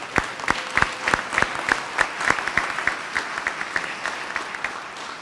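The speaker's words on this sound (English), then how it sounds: "let's at least attempt to give them the round of applause that they deserve" An audience applauds at a celebration of an Army colonel's promotion, hearing a few loud, close, distinct claps in a fairly regular rhythm over a softer background of many more hands clapping.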